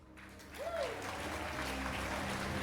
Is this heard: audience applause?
yes